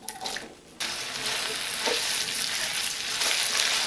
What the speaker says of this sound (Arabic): احط الاول البصل واشوحه حاجة بسيطة